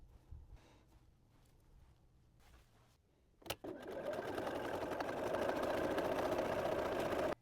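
A sewing machine stitches along a folded fabric edge while sewing a quilted tote bag, starting after a sharp click and running as a steady, close, buzzing mechanical hum for several seconds after quiet handling noises.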